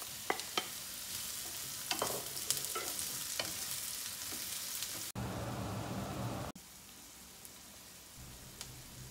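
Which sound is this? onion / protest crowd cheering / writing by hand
onion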